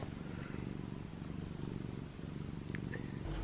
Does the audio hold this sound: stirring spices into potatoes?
no